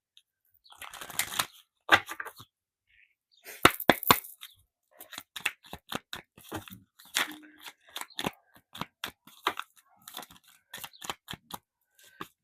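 Tarot cards being shuffled and cut during a pick-a-card reading, with close, crisp riffling bursts and slaps in irregular clusters separated by short silences.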